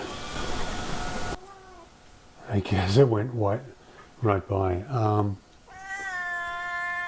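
A cat meows indoors, and a clear, drawn-out meow comes near the end after a person speaks briefly.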